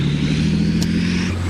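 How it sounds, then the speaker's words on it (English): Engine of an AVLB tank idling at the rear exhaust grills, a loud, steady low rumble with a constant throb and a brief higher hiss partway through. "This is where all the exhaust gases come out of the back of the tank."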